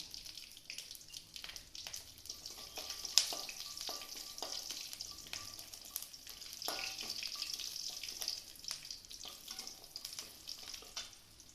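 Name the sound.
red chili, curry leaves and garlic frying in oil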